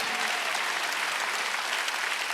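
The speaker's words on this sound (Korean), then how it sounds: "빨리 박수" Congregation clapping at a Wednesday church service, a dense, even wash of applause that holds steady and moderately loud throughout.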